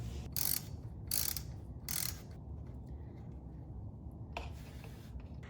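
Ratchet wrench working on bolts under a C5 Corvette during a reverse gear repair, giving three short bursts of rapid clicking over a steady low hum, with a fainter burst later.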